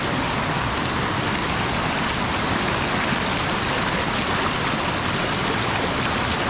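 Floodwater flows through a flooded field in bad weather, making a continuous loud rushing and splashing wash that sounds like heavy rain, steady throughout with no talk.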